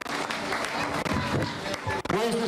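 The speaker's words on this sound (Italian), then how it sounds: "grande applauso intanto ai bimbi che ci hanno ricevuto questa mattina della scuola Don Bosco" Children at the Don Bosco school applauding, a close burst of dense clapping mixed with crowd noise and voices, lasting the whole moment at moderate loudness.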